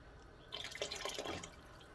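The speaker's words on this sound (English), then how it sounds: "then you will add a little bit milk to loosen it up" Milk poured into a thickening béchamel sauce for pastitsio, heard as a short, close splashing trickle of liquid lasting about a second, with no talking.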